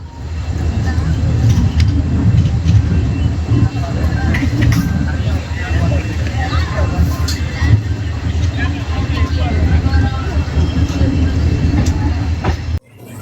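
Sethu Superfast Express 22661 passenger train running overnight from Chennai to Rameswaram, heard from inside as a loud, steady rumble and rattle of carriages with faint clicks of wheels on rail joints throughout.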